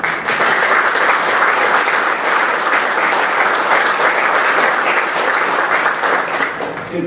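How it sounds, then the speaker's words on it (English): Dinner audience at a hall of fame banquet applauding steadily, a dense sustained clapping from a full room that holds at even loudness for several seconds. "I ask that you join me in applauding everyone in this room."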